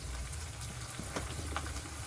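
Asafoetida sizzles in hot tempering oil for a brinjal sambal, a steady close crackling fry that runs alone for a couple of seconds with a few brighter pops.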